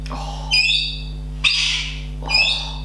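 A galah's harsh squawks come from a played recording: three loud, grating calls at roughly one-second intervals over a steady low electrical hum.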